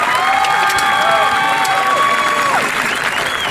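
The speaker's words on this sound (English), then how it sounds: "I want a round of applause to the class of 2018." A graduation ceremony crowd applauds and cheers the class of 2018, dense clapping mixed with high whistles and shouts, loud and continuous throughout.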